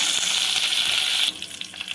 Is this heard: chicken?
no